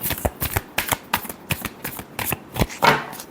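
Tarot cards being shuffled by hand make a close, crisp series of riffling flutters and soft slaps, repeated in quick bursts roughly twice a second, with nothing else heard.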